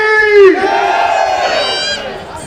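A crowd of men at a Hindu community gathering roars the Bharat Mata ki Jai chant in unison, one loud, sustained collective shout that swells at the start and then holds before fading.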